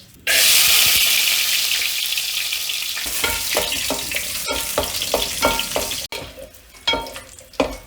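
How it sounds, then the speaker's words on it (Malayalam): Loud, steady sizzling of cashews and raisins frying in a hot pan, with intermittent scraping and stirring clicks as the pieces are moved around; no talking. "നമുക്ക് ഈ അണ്ടിപ്പരിപ്പ് മുന്തിരി കൂടെ വറുത്ത്"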